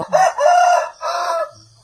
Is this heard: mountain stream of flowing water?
no